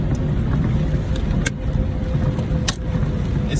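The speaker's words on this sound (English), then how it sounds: "I'm driving in the rain right now, so you know it's kind of a little more risky in this traffic." Steady broadband rumble of a car driving through rain in traffic, with a constant engine and road hiss and a couple of brief sharp splashes or passing-vehicle swishes; no talking.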